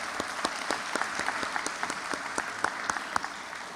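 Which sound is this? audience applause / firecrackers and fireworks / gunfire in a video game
audience applause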